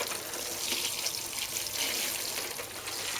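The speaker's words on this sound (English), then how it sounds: "So we'll just give them a quick water from the top" Water sprinkled from above onto freshly sown French and runner bean seeds in pots, a soft continuous hiss and patter at close range with no talking.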